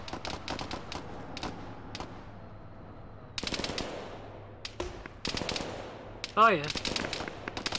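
Gunfire in a military video game, with bursts of rapid automatic fire and scattered single shots cracking in and out, some close and loud, mixed with brief voice chat.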